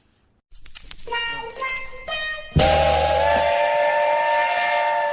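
A steam train whistle sound effect: a few short hooting toots rise first, then a long sustained whistle blast with hissing steam that carries loudly to the end.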